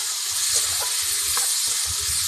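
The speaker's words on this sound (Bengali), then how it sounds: "এবারে আমি টমেটোগুলোকে দিয়ে দেব। দিয়ে ভালো করে নাড়া দিয়ে দেব।" Chopped tomatoes tipped into a pan of fried spiced masala, giving a steady bright sizzle and hiss that holds throughout, with faint low stirring thumps underneath and no talk.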